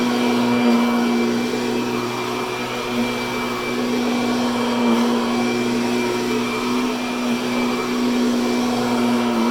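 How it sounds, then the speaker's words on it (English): A vacuum cleaner runs steadily as it is pushed across carpet, a loud continuous motor drone with a constant hum and no pauses. "this is a perfectly acceptable way to vacuum too"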